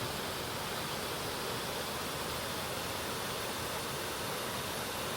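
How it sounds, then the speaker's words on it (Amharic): Water pours over the Afincho Ber dam overflow in Addis Ababa after heavy rain, making a constant, dense, even roar with no breaks and no voices. "በጣም ነው የሚያምረው ፏፏቴው። በተለይ ደግሞ ድምፁ በጣም ደስ የሚል ነው።"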